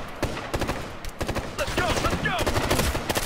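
Gunfire in the video game Ghost Recon: Future Soldier, with rapid bursts of automatic shots in quick clusters, loud and close, alongside brief game sound effects.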